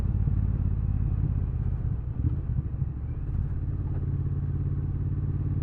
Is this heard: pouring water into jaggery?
no